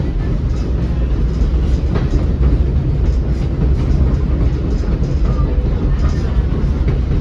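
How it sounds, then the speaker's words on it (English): Continuous loud rumble and rattle of a train rolling across a bridge over South Chickamauga Creek, steady throughout with a faint voice murmuring beneath. "we are now crossing over our first bridge over the South Chickamauga Creek"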